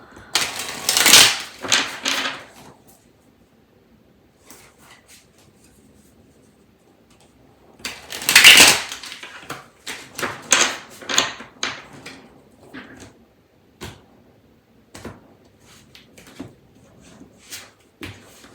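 Tarot cards being shuffled by hand, heard as short papery riffling bursts separated by quiet gaps and light taps and clicks, close and without talk.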